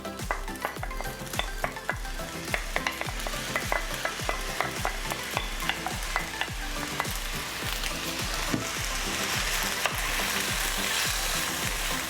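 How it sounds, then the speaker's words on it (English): Spatula scrapes rhythmically through rice and egg in a hot wok for shrimp fried rice, repeated sharp clacks over a continuous sizzle, close and loud. "Break up the rice and the egg together."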